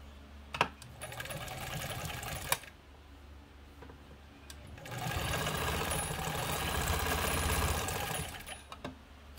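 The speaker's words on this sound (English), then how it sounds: "Just sews beautifully. Just I love the sound of this machine." A Kenmore 89 Lady K sewing machine runs in short stitching bursts, then a longer steady whirring run, close and even with light mechanical ticks and clicks between.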